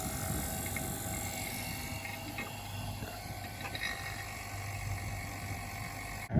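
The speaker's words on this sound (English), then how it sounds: "Let's turn our vacuum pump on." A vacuum pump runs on a catamaran's refrigerant system, a faint, steady mechanical drone with a low hum and even hiss throughout, with no talking.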